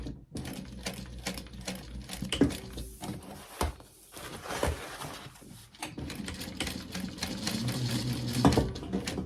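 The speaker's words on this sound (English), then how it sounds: "I love the automatic needle positioner, but I've been sewing non-stop on my other machine" A sewing machine with an automatic needle positioner stitches fabric for a gift bag, running in close, rapid bursts of mechanical clatter that start and stop, with brief pauses and handling knocks between runs.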